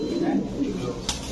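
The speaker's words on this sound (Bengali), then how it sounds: "এলেনে পুরান জাতের সবুজ গোলা কবুতর" An old-breed green gola pigeon, part of a large master breeding pair, gives low cooing phrases close by, with a brief brighter noise near the end.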